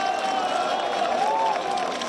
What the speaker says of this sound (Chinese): 我们要给国昌馆长，也给我们自己一个满满的掌声